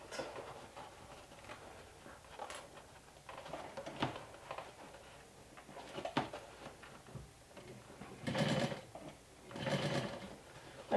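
Faint, close sewing machine stitching on a small top hat, quiet irregular mechanical patter with a few louder bursts near the end and no talking.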